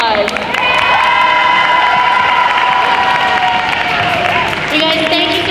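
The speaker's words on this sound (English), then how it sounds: "give them a big round of applause" A school crowd at the Oxford Academy GAMSLAM 2022 show cheers, whoops and applauds for the performers, a loud, sustained roar with shrill shouts on top.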